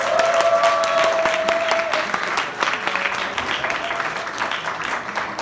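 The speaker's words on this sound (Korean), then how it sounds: "연극 출연자들에게 큰 격려와 박수 부탁드립니다." A church high school audience applauds the performers of a play, with loud, sustained clapping from a crowd filling the hall and a few whoops mixed in. The applause fades slightly toward the end.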